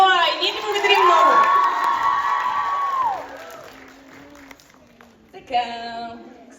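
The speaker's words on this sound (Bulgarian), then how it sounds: "Аплодисменти за Ноа и ние ти благодарим много." A crowd at a TV series finale premiere cheers and whoops loudly, high shrieking voices swelling and then fading into a murmur before a brief second burst of shouts.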